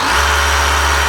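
Dewalt DCH333 54V cordless SDS hammer drill running in the cold, its motor giving a steady, loud, close whine with a low hum underneath, with no distinct hammering rhythm standing out.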